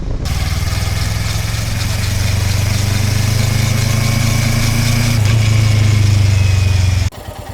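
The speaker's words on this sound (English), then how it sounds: "here's how the two bikes sound, isolated." Two motorcycle engines running one after the other, a loud steady close-up drone with a low rumbling throb that holds for about seven seconds and then cuts off abruptly.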